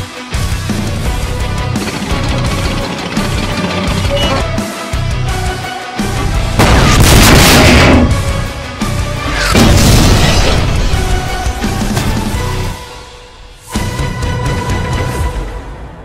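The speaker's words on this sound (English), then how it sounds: "Fire at the explosives." A cartoon battle involving the KV-6 tank is filled with heavy cannon fire and explosions: repeated loud booms and blasts over a dense, rumbling background, with several big bursts standing out.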